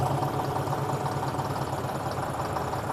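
Tractor diesel engine idling steadily at a set RPM, a constant low, throbbing rumble with even mechanical knock that holds without change throughout.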